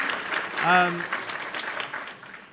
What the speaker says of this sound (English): Yes, let's give a clap for Heather.